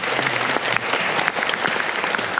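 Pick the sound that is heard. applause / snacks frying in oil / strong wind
applause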